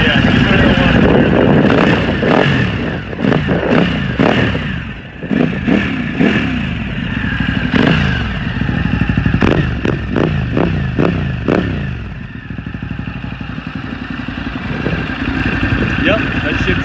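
A Ducati Hypermotard 950 SP fitted with a full Termignoni race exhaust revs hard and close in repeated sharp bursts, its loud, raspy note rising and falling before easing into a lower steady run.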